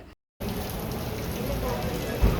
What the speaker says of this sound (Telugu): ఇంకా వర్షం వస్తుంది